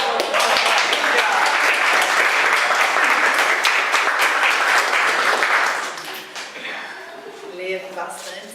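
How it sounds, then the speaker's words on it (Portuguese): Audience applause at a seminar reading event, a dense, loud burst of clapping that holds steady for about six seconds before thinning out into scattered claps and murmuring voices. "Uma salva de palmas."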